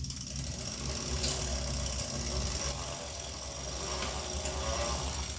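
Electric motorcycle motor whining as the throttle is opened, with a steady mid-level electric hum and faint rising tones over a rumbling background, heard close without talk.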